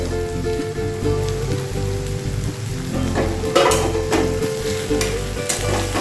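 Potatoes and cauliflower fry in hot oil in a covered pan for a simple winter vegetable fry, a steady dense sizzle with a few stirring clatters, continuous and close with no talking.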